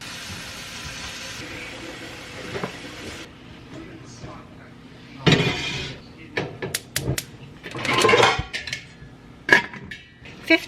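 Pots and pans clank and clatter in a few loud bursts after a quieter stretch, with metallic knocks close by, in a home kitchen as water is set to boil for spaghetti.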